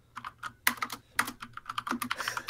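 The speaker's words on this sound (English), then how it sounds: "can you stop typing?" Fast, forceful typing on a computer keyboard heard close up, with irregular clusters of sharp clacks and heavier key strikes and no voices.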